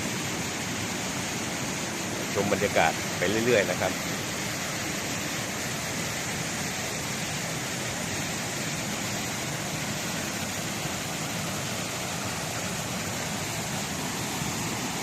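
Tat Kuang Si waterfall in Luang Prabang, Laos, gives off a steady, broad roar of rushing water that fills the whole scene without break, and someone speaks briefly over it near the start.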